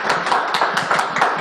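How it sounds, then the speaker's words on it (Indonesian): Short burst of scattered hand clapping from a small audience at a morning talk session with company directors, quick and uneven, heard close and without voices. "Tepuk tangan teman-teman."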